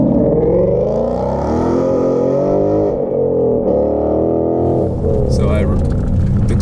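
A 2018 Ford Mustang GT with Performance Pack 1 accelerates under load, its loud, deep V8 drone climbing and shifting pitch as it revs, heard from close by.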